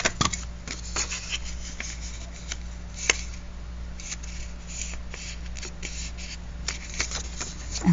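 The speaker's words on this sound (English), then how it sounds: "I want to cut a little hole out of this thing" Scissors cutting a small hole in craft paper, a series of faint close snips and rustles over a low steady hum.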